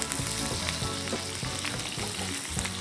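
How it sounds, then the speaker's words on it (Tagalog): Chopped onions dropped into hot cooking oil hiss and sizzle loudly and continuously, close up in a home kitchen with no voices. "Mainit na yung mantika natin. Ibabagsak natin itong onions."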